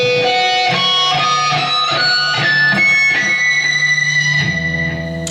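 Distorted electric guitar lick from a solo with bright, ringing harmonic squeals over picked notes, ending on a sustained high tone; loud and close, no voices.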